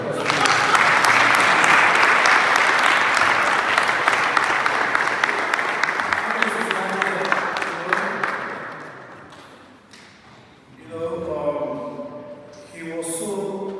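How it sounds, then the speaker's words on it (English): Loud audience applause at a memorial service of songs fills the space for several seconds, then fades as scattered voices and talk take over, with a brief renewed burst of clapping near the end. "Give her a round of applause."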